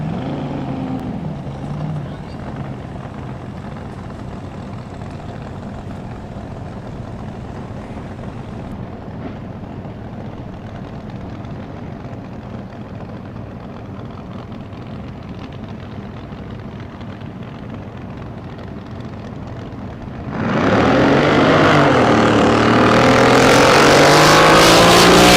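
Drag boat racing run by the Electro Free Special at a Southern Drag Boat Association event in Bryan, Texas: a steady engine rumble beneath an announcer's voice, then a sudden loud roar as the boat launches and screams past.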